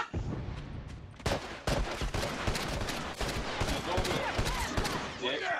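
Gunfire from The Last of Us multiplayer erupts in repeated loud bursts and single shots across the whole stretch, with a player's voice talking over the game sound.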